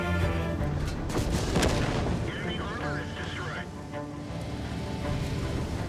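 A tank gun in a video game fires a high-explosive shell, a heavy booming blast early on with a rumbling tail, while a voice talks over the game sound.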